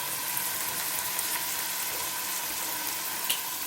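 Onions frying in a pan for a homemade mince akni, giving a steady, continuous close sizzle with a faint bubbling crackle and no talking.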